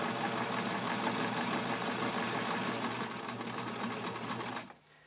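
A sewing machine stitching fabric for a doll, running at a steady fast whirring rhythm close up for several seconds before stopping near the end.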